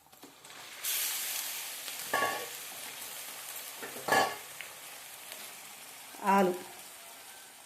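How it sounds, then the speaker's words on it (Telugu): Chicken added to a pan with ginger-garlic paste, a faint sizzle broken by a few distinct bursts of frying and stirring noise. "ఇప్పుడు చికెన్ వేసుకుందాం"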